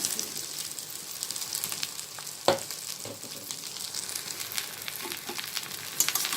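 Okra and onions sautéing in a pan for bhindi bhujia, a steady close sizzle of frying with intermittent scrapes and taps of a spatula stirring the vegetables.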